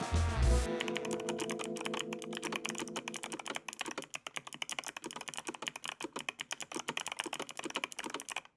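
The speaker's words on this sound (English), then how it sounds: "Does this board actually sound good after the initial test? It's a fire sounding board." Fast, close typing clatters on a $1,000 mechanical keyboard, with dense rapid keystrokes running without pause after a brief opening thump.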